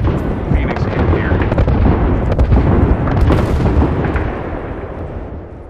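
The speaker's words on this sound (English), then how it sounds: "Grenade coming in. Airstrike." Rumbling explosions from an airstrike in the video game Apex Legends, dense overlapping booms and blasts filling the whole stretch loudly, with a voice speaking over them.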